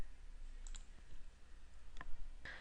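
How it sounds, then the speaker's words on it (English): Sharp mouse clicks, a few isolated taps with one quick double click near the start, as someone hits a Send button on a computer, faint and close against a quiet room hum. "Clicking Send in the bottom right corner of the window will send my event to my guests."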